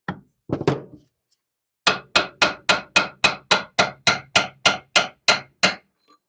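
Steady run of about sixteen sharp metal hammer blows on a punch driving a bushing out of a Honda CR250 two-stroke motorcycle case, evenly spaced and close, after a few scraping knocks.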